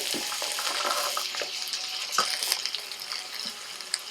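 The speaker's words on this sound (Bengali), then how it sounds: "চাউমিনের সবজি কিন্তু খুব বেশি ভাজে না একদম হালকা করে ভাজবো" Vegetables for chow mein, with onion and peas, fry lightly in a pan, giving a soft, continuous sizzle with occasional stirring clatters, heard up close with no talk.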